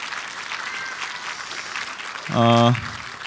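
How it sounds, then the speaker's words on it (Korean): Audience applause after a brass quintet's concert performance, steady clapping throughout with a brief loud, low sustained tone from the stage cutting in near the end. "여러분 다시 한 번 더 큰 박수를 부탁드리겠습니다"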